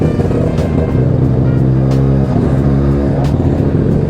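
A Mazda 2 fitted with a 13B PP-port rotary engine and MR2 gearbox revs hard and steadily, a loud, choppy brap-brap idle rumble with a brief dip partway through.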